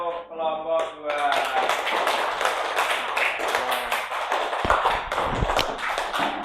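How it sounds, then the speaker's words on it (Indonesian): A classroom claps for a student group, a burst of many hands that follows a short spoken line and keeps going as dense, close applause with a few thumps. "tepuk tangan untuk kelompok 2"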